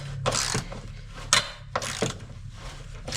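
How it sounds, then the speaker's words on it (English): A wrench ratcheting a stubborn bolt back and forth on a Jeep XJ, several short metallic clicking bursts in an uneven rhythm, close up over a low background hum. "We're just working this bolt back and forth."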